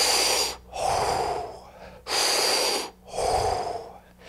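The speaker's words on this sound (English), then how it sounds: "In the Wim Hof method, what we're actually doing is, though, no, we're doing 20, 30, 40 deep breaths." Deep, forceful breaths in a Wim Hof breathing session, loud and close, each long rush of air in and out followed by a brief pause, repeating in a steady rhythm with no talking.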